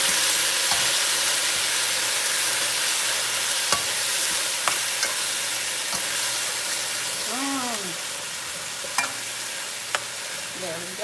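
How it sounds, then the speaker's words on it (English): Rice and red beans sizzle steadily in caramelised sugar in a frying pan, a constant bright hiss with occasional stirring clicks and scrapes. "Yeah, I like to hear the sizzle."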